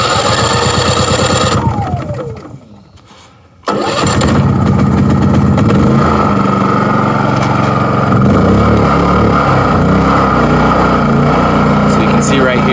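A Wen 3800 inverter generator back-feeding a house pulls through a rough start, dips briefly, then catches and runs at a loud, steady, close drone for the rest of the time.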